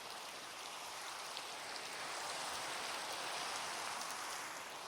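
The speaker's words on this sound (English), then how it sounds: "I really hope the rain can provide some white noise for you" Rain falls steadily in a video game, producing an even, hissing wash of drops that stays constant and fairly soft throughout.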